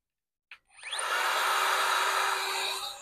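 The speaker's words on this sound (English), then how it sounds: "I'm going to use the brush and the blower." Electric air blower cleaning a computer keyboard: after a short click it spins up into a loud, steady, broadband rushing whine that holds close to the mic with no talking.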